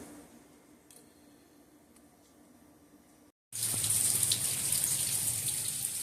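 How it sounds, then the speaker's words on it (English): Rain falls steadily on a chilly day; a quiet patter with scattered drops gives way after a brief gap to much louder, dense rainfall hissing on surfaces nearby. "A little chilly, raining all day."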